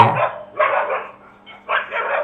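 Village dogs barking: several loud, sharp barks in short bursts with brief pauses between them, heard close up.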